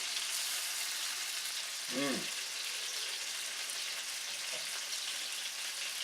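Chicken pieces frying in a pan for Chicken Saltimbocca give a steady, even sizzle throughout, with a brief tonal clatter or voice-like sound near the middle and no clear speech.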